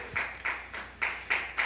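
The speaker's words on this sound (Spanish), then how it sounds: "Fuerte ese aplauso al Señor" A church congregation claps for the Lord in a few loud, irregular bursts over about two seconds, with no talking.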